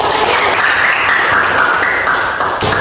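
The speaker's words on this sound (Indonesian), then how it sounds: "Tepuk tangan dulu." Children clap together in a classroom, a dense, steady burst of close applause lasting a few seconds with no talking over it.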